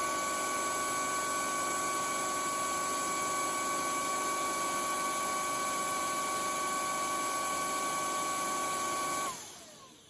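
Neakasa PowerScrub II floor cleaner running its brush self-cleaning cycle, a loud, steady motorized whine with a high tonal hum that holds evenly and then winds down abruptly at the end.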